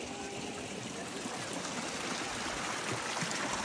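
Water trickles out from a tree root at a worship spot, a continuous, broadband, close rushing flow that stays even throughout, with no talk.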